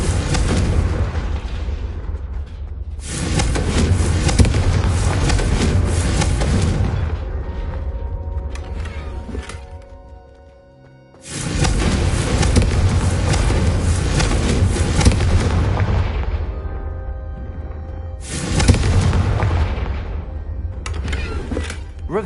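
Confringo fire spells in a video game set off long, heavy booming explosions in repeated bursts, each rolling away before the next blast, loud and with no talking.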